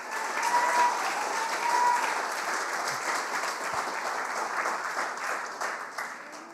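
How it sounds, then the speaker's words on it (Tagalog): A church congregation claps loudly during a sermon, a dense, sustained burst of applause from many hands that fills the room and tapers slightly toward the end. "Yung pinakamalakas na palakpak."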